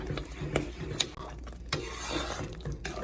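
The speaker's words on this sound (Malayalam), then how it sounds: "ഇനി ഇതിങ്ങനെ ഇളക്കി ഇളക്കി ഇളക്കി ഇതിൻ്റെ വെള്ളമയം എല്ലാം വറ്റി വരണം നന്നായിട്ട്." A ladle stirs thick Karachi halwa, a corn flour sweet cooked with ghee, in a pan. Scraping and knocking strokes come at an irregular rhythm, close and fairly quiet, with no voice.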